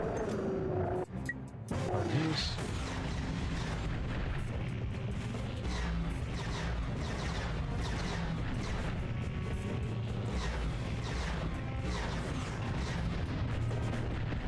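Mini rocket fire from a weapon in Ratchet & Clank: Going Commando, a dense run of booming blasts and crashing impacts that carries on steadily throughout, loud within the game's mix.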